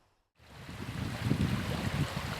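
Steady broadband rush of a river flowing below a forest in the Peak District moorland, near and continuous, starting abruptly after a brief silence.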